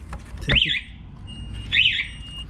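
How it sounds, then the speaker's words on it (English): Two short, bright electronic alarm bursts about a second apart, each a rising warble over a low background hum, beside a Yamaha R1 motorcycle. "that's my alarm going off."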